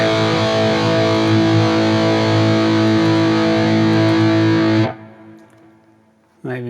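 Heavily distorted electric guitar through a drive block on a Neural DSP Quad Cortex sustains a thick, buzzing chord, then cuts off abruptly near the end before a brief burst of noise returns.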